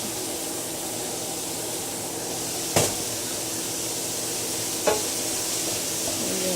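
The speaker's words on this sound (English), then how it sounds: "Stir it all up together." Cauliflower fried rice sizzles continuously in a frying pan, and a utensil scrapes and taps against the pan twice while the mixture is stirred.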